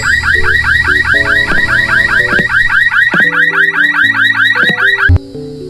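A car alarm blares in a Filipino horror video game about a VHS tape shop, a loud, close, rapidly sweeping siren with pulsing tones that cuts off abruptly near the end, no voices over it.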